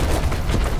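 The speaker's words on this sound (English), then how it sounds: "That's my grenade!" A grenade blast in the Warhammer 40,000: Boltgun video game gives a brief, dense, loud rumbling burst that fills the whole moment.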